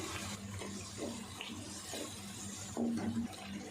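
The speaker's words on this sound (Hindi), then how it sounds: "अब आधा कप जितना पानी डाल देते हैं ताकि कीमा अच्छे से गल जाए।" Water poured from a cup into a pot of chicken keema with yogurt and spices, a soft steady splashing pour close by in a kitchen with some background clatter.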